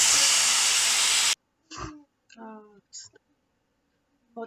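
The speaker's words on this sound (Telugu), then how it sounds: "వడగట్టుకున్న అటుకుల్ని ఇందులోకి వేసేద్దాము" Drained flattened rice hits a hot pan with oil, giving a loud, dense sizzling hiss that cuts off abruptly, followed by scattered quiet clatters and brief voices.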